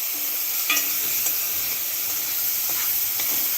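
Rice in a pot on a coal stove being stirred, a steady sizzling hiss with a few faint scrapes of the spoon, fairly close and without talk.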